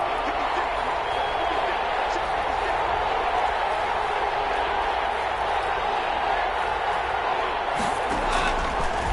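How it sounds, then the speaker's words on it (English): Steady roar of a stadium crowd in an American football video game, building as the offense lines up for a big third down, a continuous broad wash of cheering that holds loud throughout without individual voices standing out. "the crowd getting into it as we come up on a big 3rd down"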